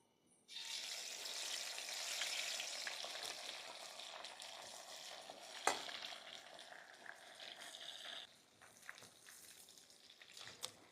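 Dried bombil (Bombay duck) fry in hot oil in a kadhai with a steady, loud, crackling sizzle. A sharp clack comes midway, then the sizzle softens toward the end, with no talk.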